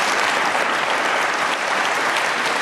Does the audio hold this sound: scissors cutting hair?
no